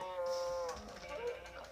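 A cow moos once in the Sky Factory video game, a drawn-out tonal low over faint background sound and soft game noise.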